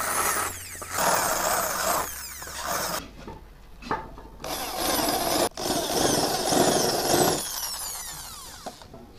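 Power drill with a countersink bit cutting screw holes in a saw gauge plate for a cutter machine, loud bursts of whirring and grinding broken by short pauses and a sharp click.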